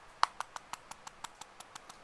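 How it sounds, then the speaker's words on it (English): Flimsy display board inside a Hidizs AP80 portable music player rattling with about a dozen light, evenly spaced clicks, close and quiet, no talking. "the display board of the AP80 is flimsy and you can hear some rattling sounds like this"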